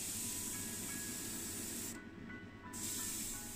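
An airbrush sprays cleaner through its nozzle in a steady, close, loud hiss that drops away briefly partway through, then resumes at full strength.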